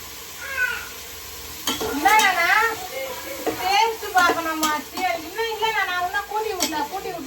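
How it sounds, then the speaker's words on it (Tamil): Tomatoes and salt sautéing in a pan for mushroom biryani, with faint sizzling and occasional sharp utensil taps, largely buried under steady close conversation. "தக்காளி போட்டாச்சு தக்காளி நல்லா வதங்க இது கூட வந்து நான் கல்லுப்பு கொஞ்சம் வந்து போட்டுக்கிறேன்"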